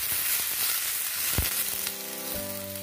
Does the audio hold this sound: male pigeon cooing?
no